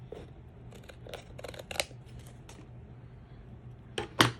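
Scissors cut off the top edge of a spell book page in a quick run of close, crisp snips, then pause before a louder final cut.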